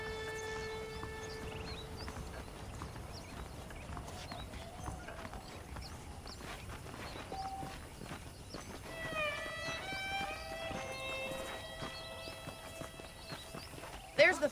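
Steady clip-clop of horse hooves trotting along in Red Dead Redemption, beneath game music and ambient sounds, with a voice talking over it and a sharp burst at the very end.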